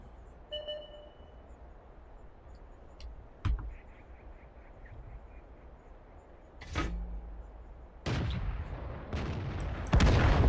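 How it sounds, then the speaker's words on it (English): Distant artillery fire in the World of Tanks game: scattered sharp cracks and thuds over a low engine rumble, with a heavier burst of blasts building toward the end, no talking. "I killed somebody with artillery!"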